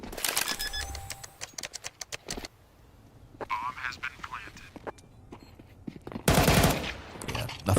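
Rapid submachine gun and rifle bursts in a Counter-Strike 2 pro match on Anubis, crackling in quick volleys with pauses, then a loud dense burst near the end, while a caster talks over the action.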